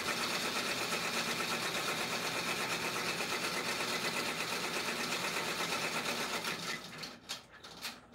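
An embroidery machine stitches satin fill on an Etsy shop order, a steady fast mechanical whir running continuously before easing off into a few quieter pauses near the end.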